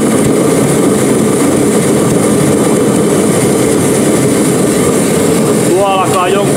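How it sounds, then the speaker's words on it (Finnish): Fuel-oil workshop space heater running and blowing hot air, a loud, constant roaring whoosh with a low rumble, close and steady throughout, with a brief voice near the end. "Tää on, toimii polttoöljyllä, ei muuta kuin virta päälle ja tuolta alkaa tulla kuuma ilma."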